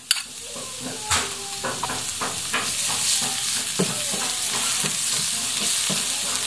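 Garlic frying in a hot pan at the start of a sautéed dish, a steady close sizzle with scattered stirring clicks and scrapes, no talking.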